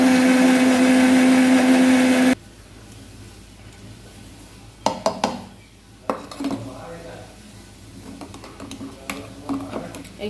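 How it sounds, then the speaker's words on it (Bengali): An electric grinder whirs loudly and steadily for about two seconds, grinding poppy seeds and chilies into paste for a katla fish dish, then stops abruptly; clinks and handling noises of the jar follow. "এবার পোস্ত লঙ্কাটা বেটে নিই।"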